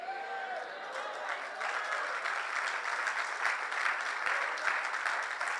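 Church congregation applauding during a sermon, dense clapping building and holding steady, with a few voices calling out at the start and scattered crowd noise throughout.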